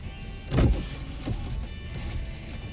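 A car's electric power window winds open with a brief motor whir, followed by steady outside traffic noise flowing into the cabin.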